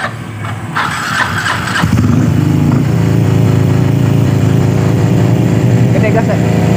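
A motorcycle engine catches and then revs hard, a loud sustained rumbling roar that holds steady at high throttle, close to the listener, with a few scraping clicks before it fires.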